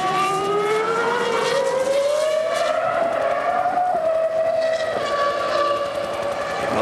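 Formula 1 car in 2000 Canadian Grand Prix qualifying, screaming at full speed down a long straight, a loud continuous high engine whine rising slowly in pitch with no speech.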